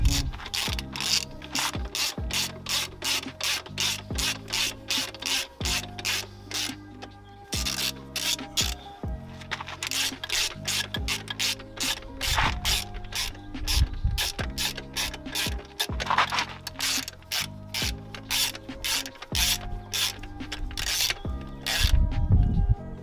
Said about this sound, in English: Spin these bolts back in.